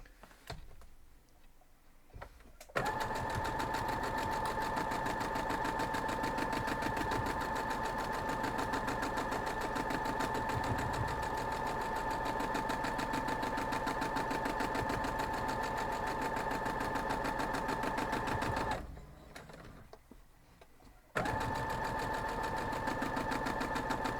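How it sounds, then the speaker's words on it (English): A sewing machine stitching scrappy folded-corner quilt block pieces runs in a long, steady mechanical whir with a bright tone, stopping at the start and once more near the end before it resumes. "We're going to go sew these two up."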